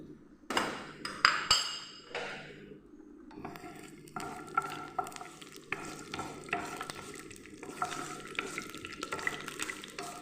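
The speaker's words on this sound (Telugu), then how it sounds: "ఇలా ఒక పెనం పెట్టుకొని అందులో కొద్దిగా ఆయిల్ వేసుకొని ముందుగా పల్లీలు వేయించుకుందాం" Peanuts roast in a little oil in a pan, starting with a few clanks and rattles as they drop in, then a soft continuous sizzle with light, regular stirring scrapes.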